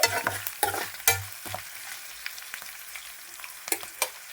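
A handful of cashews fry in a pan for mango pulihora, a quiet sizzle under sparse, close scrapes and knocks of a spoon stirring, with a few louder strokes at the start and near the end.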